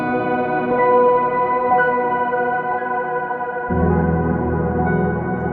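A sustained, shimmering guitar tone from a Meris pedal, drenched in pitch-shifted reverb and echoing delay, swelling into a thicker layered wash partway through.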